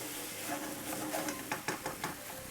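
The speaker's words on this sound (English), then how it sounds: "So give it a stir just like that." Food stirred in a pot of Jamaican fry salt fish, a spoon scraping and clinking against the pot in a few quick strokes over a faint sizzle.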